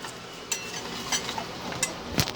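Raw shrimp tossed with rose wine for drunken shrimp, heard as a few brief wet, squelchy stirring and clinking sounds close by, with no talking.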